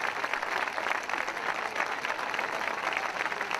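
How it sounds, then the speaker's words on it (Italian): Steady, dense applause from an audience at a literary prize ceremony honouring the winner, loud and close, sustained for the full few seconds without a break. "L'applauso, fatevi sentire,"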